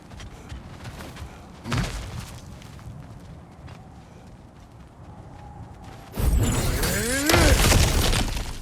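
Cracked ground smashed open in God of War Ragnarok: a sudden loud crunching burst of breaking rubble that keeps rumbling over a steady game ambience, after an earlier brief thump.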